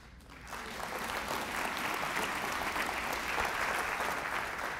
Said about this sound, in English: Don't applaud me. Applaud Miss Scritchfield.